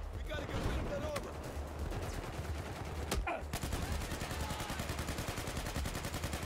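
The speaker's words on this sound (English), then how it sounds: "Oh, I'm getting shot at." Rapid gunfire in Battlefield 4 on the Tashgar map crackles as a steady stream of quick, moderately distant shots, with one sharper crack partway through and a voice talking over the combat.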